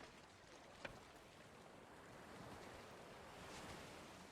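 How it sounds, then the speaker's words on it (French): Sea of Thieves game ocean waves slosh and lap beneath a pontoon, a faint continuous wash that swells slightly, with a brief sharp knock near the start. "Ils ont trop bien fait le son des vagues."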